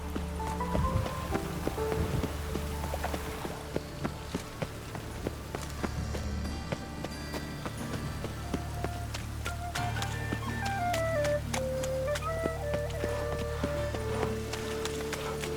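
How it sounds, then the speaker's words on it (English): Steady heavy rain in The Witcher 3 pours over a game scene, a continuous hiss and patter with horse hooves clip-clopping and soft musical tones mixed in, moderately quiet and without speech. "A real cloudburst."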